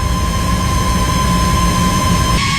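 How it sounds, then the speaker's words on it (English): B-52 Stratofortress jet engines spool up with a loud, steady roar and a sustained high whine, and the tone shifts abruptly near the end. "Engines 2 and 3 are clear and initiating start sequence"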